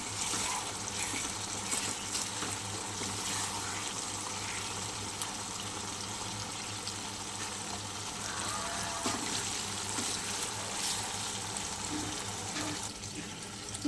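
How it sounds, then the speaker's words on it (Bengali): Fish fat frying in hot oil in a pan until browned, giving a steady, close, continuous sizzling hiss that stays level throughout, with no talking. "দেখো বন্ধুরা, আমার মাছের তেল কত তেল বেরিয়েছে। চলো বেশ ভালো করে একটু লাল লাল করে ভেজে নিই।"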